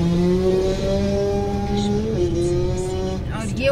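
A motorbike speeds along a smooth road in Swat, its engine a loud, steady drone that wavers slightly as it passes close by, with a faint voice briefly audible beneath it.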